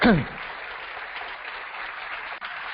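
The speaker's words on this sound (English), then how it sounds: "Can we give all these new friends a warm round of applause again?" Audience giving a warm round of applause to newcomers at a gathering, a steady band-limited patter of many claps after a brief voice at the start, even and continuous.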